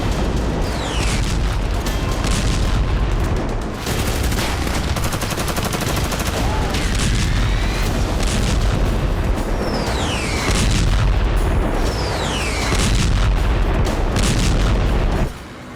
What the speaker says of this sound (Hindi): बेहद ही प्रचंड अंदाज में आईडीएफ खान यूनुस पर गोला बारूद बरसा रही है।